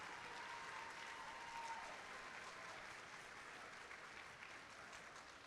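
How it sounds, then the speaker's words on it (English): Students at a FIRST robotics district event opening ceremony give steady, sustained applause for their mentors and coaches, a dense wash of clapping from a large crowd in a big hall, continuous throughout without talk. "students, give the loudest round of applause that you can to all of our mentors and coaches here"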